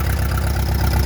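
An Allis-Chalmers D17 gas tractor engine runs steadily with a deep, even, loud rumble close by.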